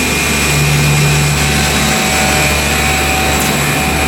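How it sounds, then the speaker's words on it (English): Factory machine machining a drive plate for fishing line winders: a loud, steady mechanical whir with constant tonal hum and broadband noise, unchanging throughout with no voices. "Machining the drive plate for the line winders."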